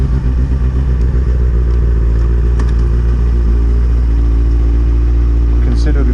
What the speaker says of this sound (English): It sounds better. It's got a better rumble.